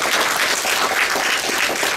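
An audience applauding at a business seminar, dense, steady clapping from many hands, loud and close, lasting the full two seconds with no talk over it.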